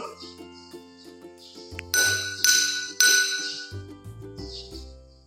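A metal spoon strikes drinking glasses in a physics wave practical, producing a few bright ringing dings with lingering tones, interspersed with lighter clinks and quiet tapping.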